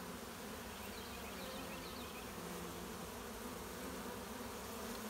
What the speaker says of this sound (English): these bees here, I know it's hard to tell, they're actually fanning